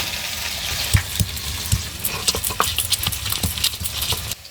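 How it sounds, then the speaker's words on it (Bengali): Potatoes frying in mustard oil in a pan, a steady close sizzle with irregular crackles and light tapping from stirring, with no talking. "আলুগুলো এবার ভেজে নেব"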